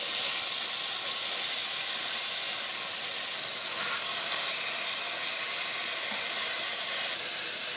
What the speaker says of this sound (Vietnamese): Khi dầu nóng mình sẽ cho cà vô và lật úp xuống.